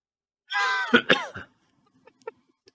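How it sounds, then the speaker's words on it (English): One person coughs from concrete dust in a short harsh burst, a couple of hacking coughs up close, then quiet with faint small clicks. "if you breathe wrong, it'll make you cough"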